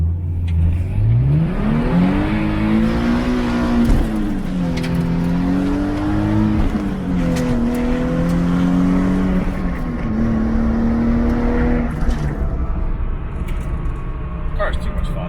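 A lifted Jeep's engine revs and accelerates loudly, its pitch rising and falling through several gear changes, close and continuous throughout.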